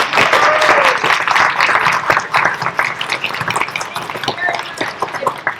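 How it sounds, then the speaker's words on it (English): Applause from a room of attendees at a community cultural session on Afghan immigrants and refugees: dense, steady clapping sustained throughout, close and fairly loud, with a few voices faintly underneath. "If you're happy, let's applaud them and give them positive."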